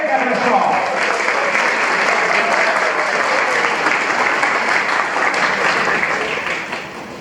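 An audience at an anniversary ceremony in Montes Claros, Minas Gerais, applauds an introduced guest with loud, continuous clapping that swells and holds for several seconds before tapering off at the end.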